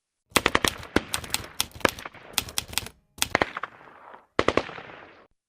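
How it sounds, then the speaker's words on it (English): Medium machine gun firing rapid bursts in a battle sound effect, several short staccato volleys separated by brief pauses, close and sharp. "the MMG team pivots the gun, shifting fire to support the left flank"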